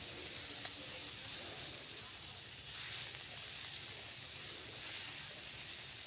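Spice paste with cumin and mustard frying in a pan for a Bengali pui mitul dish, giving a steady broad hiss and sizzle that fills the whole stretch at an even level.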